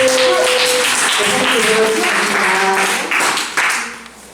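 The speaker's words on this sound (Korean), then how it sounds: "우리 축복의 박수." Congregation clapping at a church youth worship service, a loud, close burst of applause with voices and cheering over it, dying down near the end.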